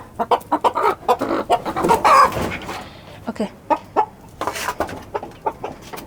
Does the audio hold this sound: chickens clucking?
yes